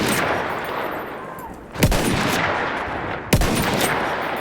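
Two loud, sharp gunshots from an unscoped bolt-action sniper rifle in Battlefield 1, spaced about a second and a half apart over a constant background rumble of battle.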